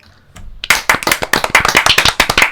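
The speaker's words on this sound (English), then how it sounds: "Everyone clap." A small group on a podcast claps together at close range, a burst of quick, uneven hand claps that starts abruptly and keeps going steadily to the end, with no voices over it.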